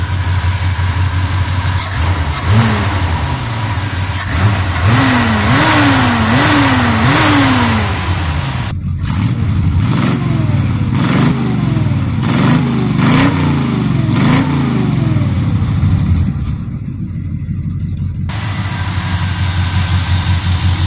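A car engine fitted with an Edelbrock carburetor and a hubcap air cleaner idles loudly and revs repeatedly, its pitch climbing and falling in quick successive blips. The revs break into sharper bursts partway through.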